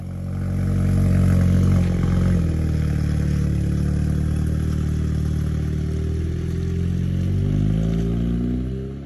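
A straight-piped turbocharged car engine idles loud and raspy on a cold start, with a deep, rumbling exhaust note, its pitch shifting slightly near the end.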